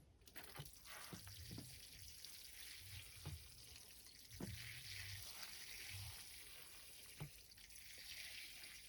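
Water pours and trickles steadily as a bonsai is watered, with occasional drips and small splashes of water draining through the pot, quiet and close.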